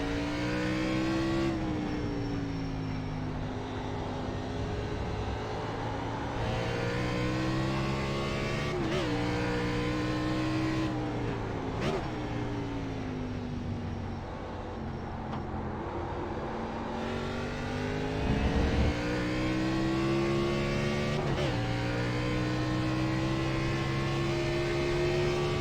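Race car engine lapping Road America in the iRacing sim, a steady loud drone with rising and falling pitch through the laps and brief gear-shift dips, constant throughout.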